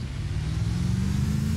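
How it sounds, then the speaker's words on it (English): A car engine in the game Arma 2 hums steadily at a low pitch with a rising rev, continuous and fairly close, no voices. "Oh, I just heard another car behind us."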